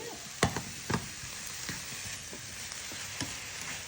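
Tomatoes sizzle in a hot pan with a steady frying hiss, punctuated by a few sharp stirring clatters early on and softer bumps later, close and moderately loud with no voices.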